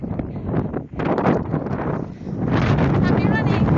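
Strong wind buffets the microphone on a windy day while running around Glenmore Reservoir, a constant loud rushing roar with gusty surges and no talk.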